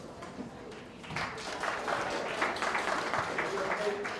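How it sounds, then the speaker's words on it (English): Audience applause at a housing forum swells after a singer's performance, a steady patter of many hands that grows louder and continues for several seconds in a reverberant room. "Let's give her another round of applause"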